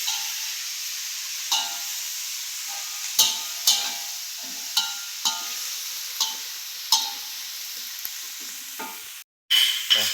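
Ground spice paste frying in a pan for jangan lompong, a steady sizzle broken by regular clacking strokes of a spatula as it is stirred, then a short cut near the end.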